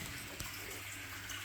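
Water runs from a refrigerator's built-in dispenser in a home in the west of Ireland, a faint, steady trickling stream lasting the whole short moment, with no talk over it.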